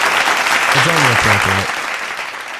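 Applause soundbite played during a sports radio show about the Trail Blazers and NBA playoffs, a burst of crowd clapping and cheering heard over a short spoken comment, fading toward the end.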